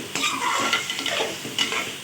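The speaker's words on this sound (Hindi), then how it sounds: "इसको 5 मिनट हमने भून लेना है।" Chicken with turmeric, salt, red chili, ground coriander and cumin fries in a pan, with a steady close sizzle and repeated scraping strokes of a spoon stirring.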